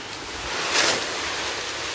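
Small stones tipped from a bag into a bucket for a backyard birdbath setup, giving a continuous rushing, hissing pour with a brief louder surge in the middle.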